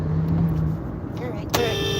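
A large truck rumbles closely behind a car on the road at night, its engine noise steady under the cabin hum, with a brief thump near the end.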